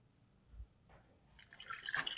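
Water is poured over washed Alphonso mangoes in a pot. After a faint drip or two, a close splashing pour builds and continues to the end.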